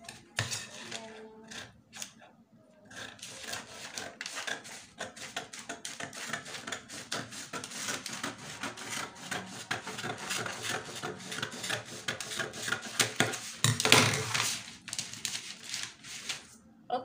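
Scissors cutting out a fabric trouser back panel on a table, a run of close, crisp snips and rustles with scattered clacks, uneven in rhythm and moderately quiet.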